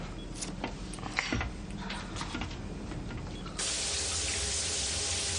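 A shower bursts on partway through as a loud, steady hiss of running water, preceded by quieter clanks and handling sounds in a room.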